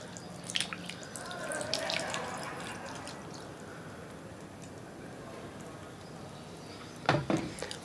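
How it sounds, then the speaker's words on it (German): Water is poured from a watering vessel onto freshly planted garlic in a balcony pot, a soft trickling splash that fades after a few seconds, followed later by a couple of louder spattering bursts. "Ich nehme jetzt Wasser und werde das richtig ordentlich angießen."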